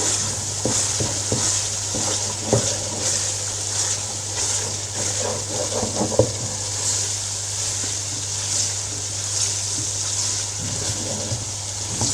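Masala for a kidney bean curry sizzles in a pan as it is stirred and fried with small splashes of water, a steady hiss broken by repeated scraping strokes, with no talk.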